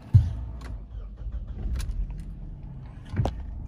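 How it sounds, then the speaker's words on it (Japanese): A 2007 Toyota Hilux Surf engine with no starting or engine faults cranks and catches with a short starter burst, then settles into a low idle rumble, close by, with a second brief mechanical sound near the end. "ちょっと今エンジンかけてみたんですけども、"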